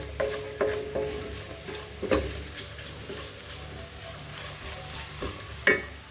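Turmeric powder and spices cooking in a pan over a low flame, with a soft, quiet sizzle under several irregular scrapes and taps of a spoon against the pan.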